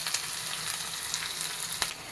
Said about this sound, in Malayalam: ഓയിൽ ഒഴിച്ച് കൊടുത്തു, ലേശം കടുക് ഇട്ട് കൊടുത്തു, സവാള ഇട്ട് കൊടുക്കാം.